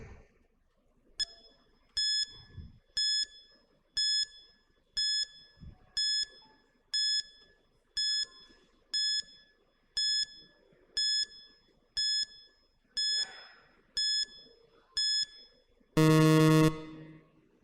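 A quiz timer ticks off about fifteen evenly spaced electronic beeps, one each second, then finishes with a loud, sustained buzzing alarm.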